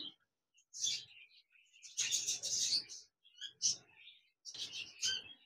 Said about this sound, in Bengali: এখানে দেখতে পাচ্ছেন এক জোড়া হোয়াইট জাভা পাখি রয়েছে, রেড আই